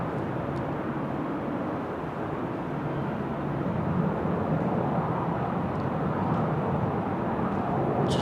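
A Transavia airliner in Sunweb livery is towed at Amsterdam Schiphol Airport on a windy, showery day, heard as a steady, moderately distant low rumble of engine and wind noise with no one talking.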